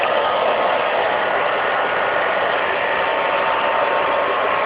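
A handheld hair dryer runs at a constant pitch throughout, a loud, even whooshing motor hum with no pauses or changes.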